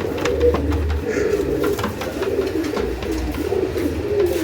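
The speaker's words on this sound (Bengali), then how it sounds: "মাশাল্লাহ আরেকটা রেসার কবুতর।" Racing pigeons, male and female birds offered for sale, coo repeatedly in low, throaty, pulsing calls close by. Their cooing continues steadily throughout.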